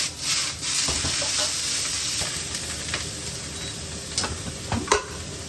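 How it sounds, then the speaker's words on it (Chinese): Pickled Chinese cabbage (suancai) stir-frying in lard in a wok gives a soft, constant sizzle, broken by several sharp scrapes and clacks of the spatula, close by and with no one speaking. "稍微炒一炒，把水分炒干。"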